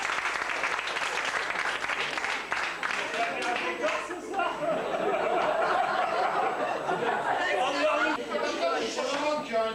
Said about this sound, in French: que j'ai nommé Monsieur Refnodek Maïk, que nous applaudissons très très fort.